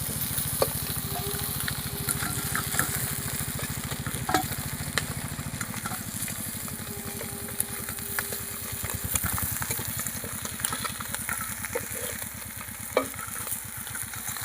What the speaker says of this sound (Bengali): আমার কই মাছগুলো লাল লাল করে ভাজা হয়ে গেছে